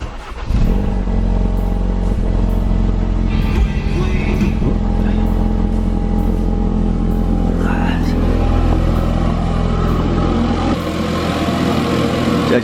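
Ford Focus RS engine cranks and fires on a cold start, then runs at a loud, high idle with a deep, steady rumble, close by.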